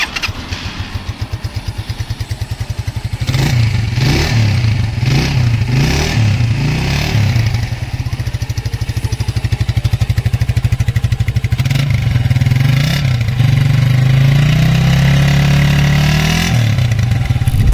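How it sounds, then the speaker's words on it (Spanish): A Kawasaki Murasaki 150cc kick-start motorcycle engine idles with a steady low throb, then gets revved several times in short bursts before settling back to a rough, continuous run. "Les dejamos el audio del motor."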